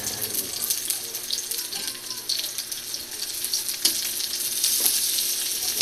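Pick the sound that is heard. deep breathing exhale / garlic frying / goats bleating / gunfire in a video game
garlic frying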